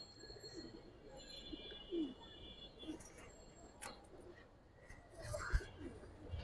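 A female giribaz pigeon of the Palla line gives soft, low coos at a loft, faint and intermittent over steady background noise and the occasional chirp.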